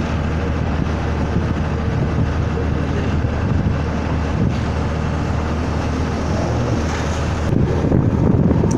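A boat cruises on the Persian Gulf off Doha at dusk, a constant loud rush of hull wash, spray and engine rumble mixed with heavy wind buffeting the microphone, with no clear voices.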